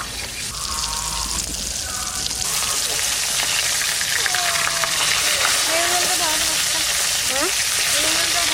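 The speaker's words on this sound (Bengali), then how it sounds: "মাছটা প্রথমে ভাজা করে নিই" Vetki fish fries in hot oil in a wok, giving a loud, dense, steady sizzle that fills the whole stretch and grows slightly as it goes. Faint voice-like tones drift in the background.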